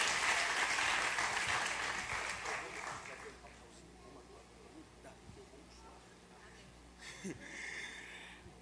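Church congregation applauding during a worship service, the clapping moderate at first and fading away after a few seconds into near quiet, with faint breathing and a brief scrape near the end.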